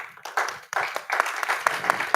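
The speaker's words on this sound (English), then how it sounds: "Let's give Reggie Peters a round of" Audience clapping at a Black music summit panel, uneven scattered claps of moderate loudness from a room of people, without voices on top.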